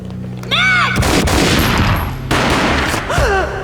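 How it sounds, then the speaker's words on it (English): Gunfire in the 2001 video game Max Payne: a loud, dense burst of shots with heavy booming blasts filling most of the moment, plus a high wailing electronic tone near the start and again near the end. "A gunshot boomed and she fell down in slow motion."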